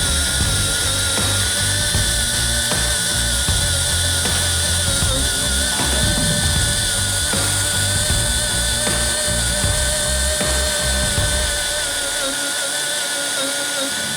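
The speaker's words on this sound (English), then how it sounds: "One hole cut specifically for the 5/16 flange bolts." A drill with a 3/8 bit bores a bolt hole through wood for a 1967 Chevrolet truck bed floor, a steady loud motor whine with rising and falling load that runs continuously and cuts off near the end.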